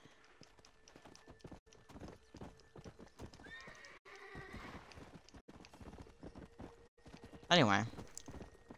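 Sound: horse in the video game Red Dead Redemption

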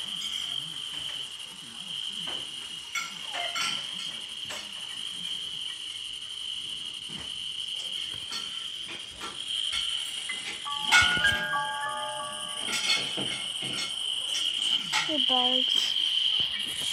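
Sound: bugs chirping

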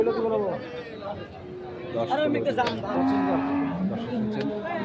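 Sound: Sahiwal cattle mooing at a livestock market

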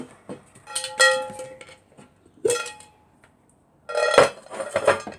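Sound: Turbo chewing gums being dropped into a dish

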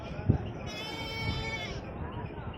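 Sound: goats bleating at a goat market

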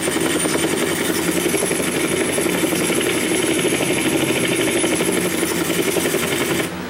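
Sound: helicopter landing in video game

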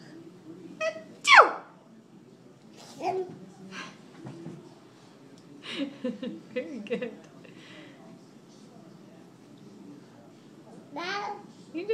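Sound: child sneezing

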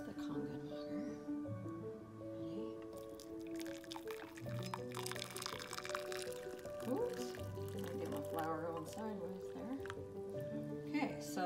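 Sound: Kangen water being poured into a glass with tea

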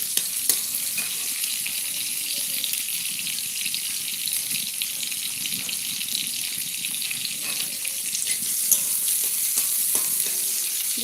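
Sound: onions frying in pan

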